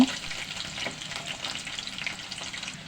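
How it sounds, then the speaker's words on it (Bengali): Chopped onion fries in hot oil in a wok, a close, steady crackling sizzle with faint stirring scrapes and no talk. "কড়াইতে পরিমাণ মতো তেল দিয়ে তেল গরম হয়ে আসলে পেঁয়াজ কুচি"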